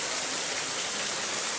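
Heavy rain pours steadily outdoors, a dense, even hiss with no gaps, loud and close, while children play outside in the downpour.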